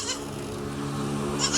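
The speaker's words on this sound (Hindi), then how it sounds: "35 नंबर की बकरी है सर" A goat for sale at a Rajanpuri goat market bleats loudly and steadily in a single drawn-out call, close by, with no talk over it.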